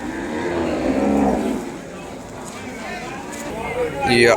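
An Ongole breed cow moos at a busy Sunday cattle market in Kodada, its low call rising loud over the first second and a half, with a shorter cry near the end and people talking throughout.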